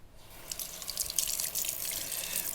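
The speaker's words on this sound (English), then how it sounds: "And we can rinse that out a little bit." Dover sole being rinsed under a running kitchen tap, a steady broadband splash of water that swells in quickly and keeps flowing close by, with no voices.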